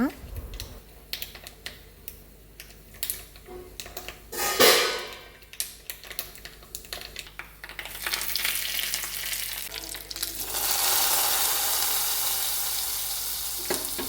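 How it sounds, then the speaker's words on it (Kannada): Spices for a tempering dropped into hot oil for a buttermilk-based Karnataka curry, crackling in scattered pops before a steady, loud sizzle swells and holds near the mic. "ಒಂದು ಒಗ್ಗರಣೆಯನ್ನು ಹಾಕಿಕೊಳ್ಳೋಣ."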